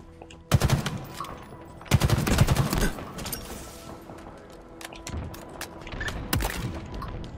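Gunfire in the video game Halo Infinite, with loud bursts of automatic fire at about half a second and two seconds, then scattered sharper shots and crackling impacts.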